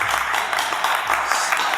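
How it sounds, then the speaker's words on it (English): A Chicago studio audience claps steadily and densely throughout, a close, even wash of applause with no other sound standing out. "let's give us a round of applause for that"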